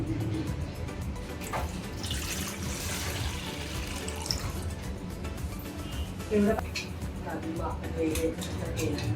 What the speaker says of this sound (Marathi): आता ह्याच्यामध्ये पाणी ठेवायचं आपल्याला